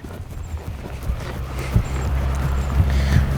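Hoofbeats of a ridden horse during a training session on handling a strong horse that pulls, with steady low thuds and a rhythmic clip-clop close by, and no talk over them.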